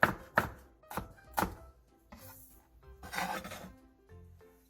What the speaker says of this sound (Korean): 청양고추 1개와 홍고추 1개를 쫑쫑 썰어주세요.